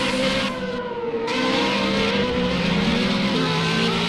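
Formula Renault 3.5 race cars at Silverstone's Club Corner scream past close by, their loud, high engine notes holding and shifting pitch as they brake and accelerate, with several cars overlapping.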